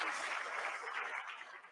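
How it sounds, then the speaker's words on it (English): Brief, moderate applause from an audience at the Alpine A524 Formula 1 car launch, a soft wash of clapping that tapers off toward the end. "I think a round of applause."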